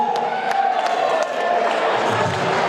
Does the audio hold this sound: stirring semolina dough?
no